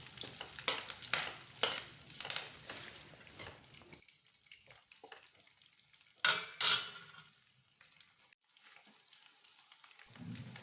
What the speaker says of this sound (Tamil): சின்ன வெங்காயத்தையும் கருவேப்பிலையும் சேர்க்குறேன். இதை சேர்த்ததுக்கப்புறமா 1 நிமிஷம் நல்லா வதக்கணும்.